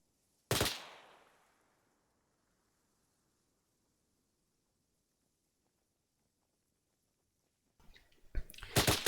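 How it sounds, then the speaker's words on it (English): Automatic gunfire in the video game ArmA 3, one sharp burst near the start that rings out and fades, then after a long quiet stretch a denser run of rapid shots closing the clip. "those assaulting switch to automatic fire and assault the position"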